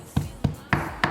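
A kitchen hammer pounds raw chicken being prepared for breaded Japanese curry katsu, four dull, evenly spaced thuds close by with no talk between them.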